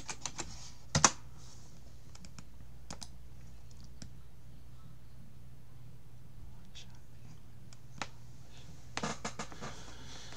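A computer keyboard on a Linux machine is used to type a password, giving sparse, soft clicks in small clusters separated by long quiet gaps over a faint steady hum.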